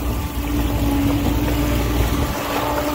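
A Honda outboard engine runs on a 2008 Pro-line 23 Express boat out on the water, a steady droning hum with wind rush over the microphone, continuous and fairly loud with no talk.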